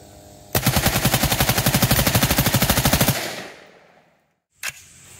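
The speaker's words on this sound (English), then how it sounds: "Post sample dealer machine gun. Mark 18 mod zero upper." A post-sample MK18 Mod 0 upper machine gun firing full auto, one loud sustained burst of about two and a half seconds that rings out and fades, followed by a single short mechanical clack.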